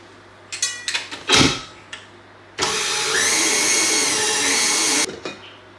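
A handheld electric whisk creams butter and sugar for a lemon drizzle cake, a steady close whirring drone that runs for about two and a half seconds after a few brief clatters and bumps.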